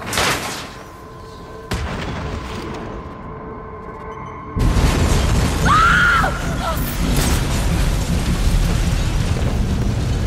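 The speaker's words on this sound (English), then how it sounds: "Source of explosion was an oil truck on the bridge surface." A massive oil truck explosion on a bridge surface in Batman: Arkham Origins, heard as a sudden loud roaring blast that swells into a sustained rumbling roar with crackling debris, following quieter earlier bursts.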